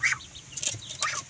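Young gamecocks burst from an opened pen in a quick flurry of wing flaps, two or three close bursts of fluttering with faint clucks and rustling between them.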